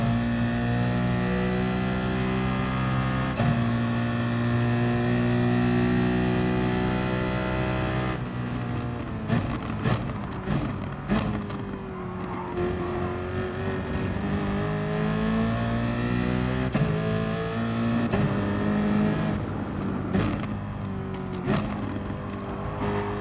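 Race car engine in Gran Turismo Sport on the Nürburgring GP circuit, a loud continuous high-revving drone that shifts pitch through gear changes and corners, with rapid rev fluctuations in the second half.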